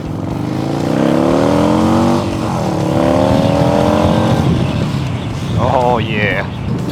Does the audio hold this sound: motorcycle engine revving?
yes